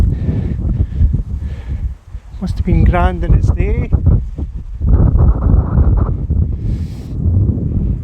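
Gusty wind buffets the microphone in loud, rumbling bursts on a grassy track where the rivers Tay and Isla meet, while someone speaks briefly in the middle.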